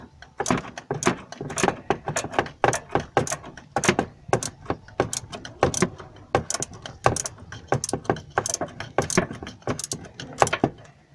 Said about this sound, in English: It's a flathead screwdriver. Just take the Jubilee clamps off.